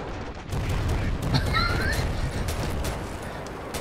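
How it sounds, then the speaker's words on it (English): Dense rumbling booms and crackling bursts of gunfire in the video game Ravenfield roll on continuously, loud and layered like a heavy battle. "so many explosions"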